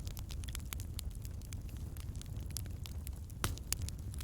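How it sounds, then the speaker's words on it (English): Crackling fire with soft, scattered pops and snaps over a low steady rumble, faint and continuous, with no voices. "listening to the crackle of the fire."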